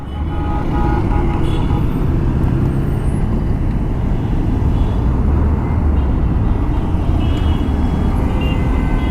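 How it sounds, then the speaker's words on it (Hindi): A Yamaha MT-15 motorcycle's radiator fan runs with a faulty vibration, a continuous loud whirring hum with steady low rumble, close to the bike. "फ़ैन चल रहा है गाड़ी का, अब चला है"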